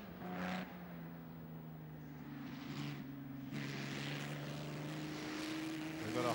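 Pre-war Mercedes-Benz Silver Arrows racing car climbing the Goodwood hill past Goodwood House, a distant, faint droning engine note rising and falling in pitch as it rounds the corners.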